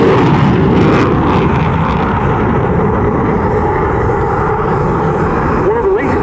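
A Eurofighter Typhoon jet flies at the RAF Cosford airshow, its loud continuous engine roar dominating and steady throughout, with a faint rising whine near the end.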